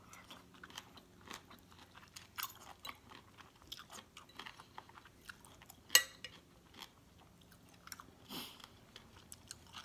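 Close, wet chewing of shellfish eaten with spicy papaya salad (som tam) at a home lunch, with irregular crunchy bites and smacking, one sharp crack standing out, and no talking.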